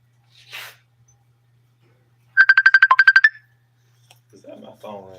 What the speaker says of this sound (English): Is that my phone ring?